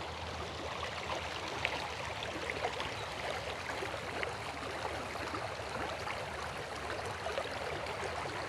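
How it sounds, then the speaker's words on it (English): Steady flowing stream water on an outdoor nature walk, a continuous even rush that holds at a constant moderate level throughout with no voices. "hear the water."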